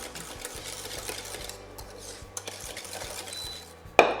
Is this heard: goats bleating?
no